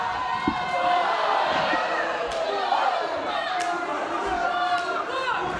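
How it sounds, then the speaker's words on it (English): A crowd at a live wrestling event in Queenstown, New Zealand roars and cheers steadily, with occasional thuds from the ring, under a commentator's continuous talking. "Bringing this crowd to their feet."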